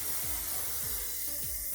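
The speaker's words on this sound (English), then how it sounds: "a little flexible hairspray" A can of flexible hairspray sprays in one continuous close hiss during a curled hair styling session, broadband and even throughout, with no talking.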